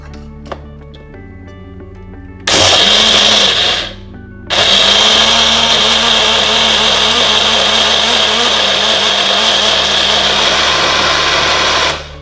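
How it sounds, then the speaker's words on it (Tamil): A mixer grinder blending coconut, chillies, salt and a little water into red chutney, loud close whirring in two bursts: a short run, a brief pause, then a long steady grind to the end, no voices. "சட்னி நல்லா அரைஞ்சிருச்சு."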